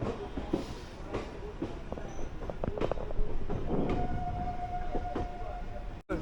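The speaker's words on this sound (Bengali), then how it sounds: "আমাদের ট্রেন ছেড়ে দিল ঠিক সঠিক সময়ে" A Kolkata-to-Bolpur local passenger train pulls out of the station with a steady rumbling roll, scattered wheel clicks and clanks, and a thin sustained squeal, heard from inside the carriage.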